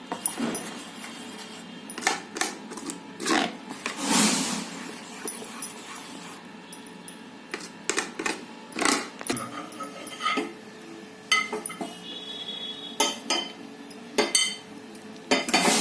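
Wheat flour batter for soft dhirde is mixed in a bowl. A spoon repeatedly clinks and scrapes against the bowl in irregular bursts, close and moderately loud, with no talking.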